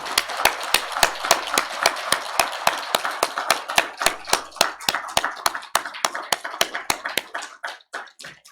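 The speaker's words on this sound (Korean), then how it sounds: "그동안 유성구민을 위해서 헌신하고 수고하신 송봉식 의원님께 뜨거운 격려의 박수 부탁드립니다" Steady rhythmic clapping fills a Yuseong district council plenary session, about thirty crisp, evenly spaced claps ringing out loud and close before thinning and slowing toward the end.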